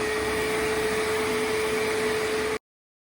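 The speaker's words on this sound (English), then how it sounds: "So I got the Bissell Spot Clean Pro Heat Pet, and I'm gonna use this to vacuum and clean these chairs." A Bissell Spot Clean Pro Heat Pet vacuums chair upholstery with a loud, steady motor whine and airflow hiss that runs unbroken, then cuts off abruptly.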